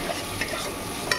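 Frozen peas sizzle steadily in a hot pan while a utensil stirs them, with a few faint scrapes over the continuous frying hiss.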